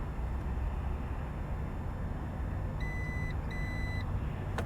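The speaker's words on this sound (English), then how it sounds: "so we're going to listen for the beep." Power tailgate warning beep on a 2022 Jeep Wagoneer, two short repeated electronic tones over a steady outdoor background hum, clear but moderate in level.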